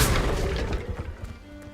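Confringo blasting spell explosion in the Hogwarts Legacy video game, a single loud booming burst at the start that rumbles and decays over the following second or so.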